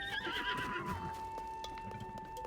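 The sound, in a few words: horse neighing in Legend of Zelda video game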